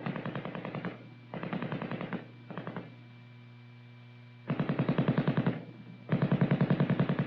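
An M60 7.62 mm belt-fed, gas-operated machine gun fires in rapid automatic bursts, several strings of evenly spaced shots separated by short pauses, over a steady electrical hum.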